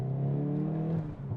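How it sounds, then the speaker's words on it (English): A Hyundai i30N hot hatch with a 200-kilowatt engine and DCT gearbox, heard up close from its exhaust while driving through tight streets: a steady, deep, droning growl holding a firm tone, briefly dipping near the end. "that exhaust note isn't just all for show, it actually is a little bit functional"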